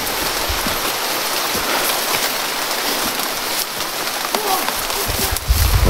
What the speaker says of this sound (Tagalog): lumakas ng ulan